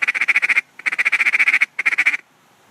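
A duck call blown in three rapid bursts of tucka-tucka chuckling notes, each a fast string of sharp clipped quacks, close and loud with short pauses between the runs.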